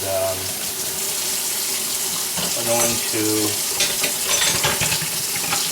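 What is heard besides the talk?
sink filling with hot water from tap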